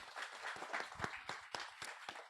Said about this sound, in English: Give them a round of applause for all their hard work.